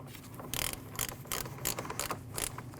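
A ratchet tightens the 10mm battery terminal nuts on a Jeep Cherokee, quick bursts of sharp clicking strokes in a steady rhythm, close and quiet.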